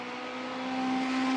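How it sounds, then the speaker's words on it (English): A Ferrari race car drives through a stretch after the center straight during night qualifying for a grand touring event, heard as a steady engine tone that rises slightly in pitch and loudness over a brief moment. "Working his Ferrari through the first stretch after the center straight"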